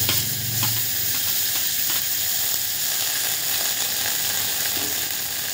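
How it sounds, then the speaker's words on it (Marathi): Dalia roasting in a pan with turmeric, carrots and peas, giving a steady, close sizzle with occasional light stirring taps and scrapes, no voices. "हा जो दलिया आहे हा याच्यामध्ये छान भाजून घ्यायचा आहे।"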